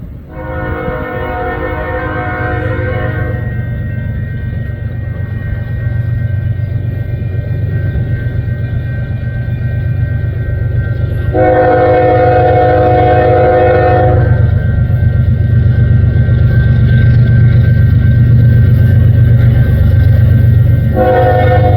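Union Pacific freight locomotives move a VIA Rail passenger train, with a loud, steady engine rumble throughout and three long blasts of a multi-tone horn, the last one cut short.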